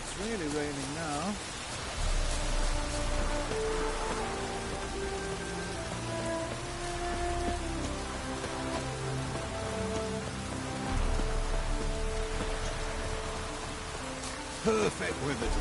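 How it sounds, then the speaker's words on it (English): Heavy rain falls in The Witcher 3, a steady dense hiss of drops drumming on surfaces that runs unbroken throughout, with low rumbling layers beneath. "It's really raining now."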